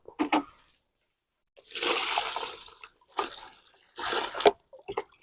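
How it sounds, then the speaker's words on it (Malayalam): Strawberry guava plants are watered in hot weather, with several short bursts of splashing, gushing water separated by pauses, close and fairly loud with no voices. "നമുക്കിനി നനച്ചു കൊടുക്കാം"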